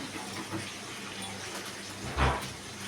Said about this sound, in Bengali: তারপরে পটলগুলোকে ছেড়ে দিলাম। ছেড়ে দিয়ে পটলগুলোকে ভালো করে ভেজে নেব।